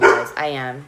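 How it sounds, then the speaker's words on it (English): A dog gives a short bark or yip right at the start, then a voice takes over, with more dog noise close by while he talks. "I am really sorry about the dogs barking,"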